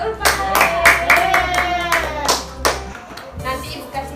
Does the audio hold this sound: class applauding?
yes